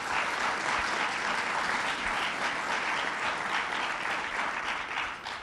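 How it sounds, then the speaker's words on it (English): Sustained applause from a large audience at a governor's event unveiling a justice agenda, steady and full clapping that holds evenly for several seconds before easing slightly at the end. "And let's give them a round of applause."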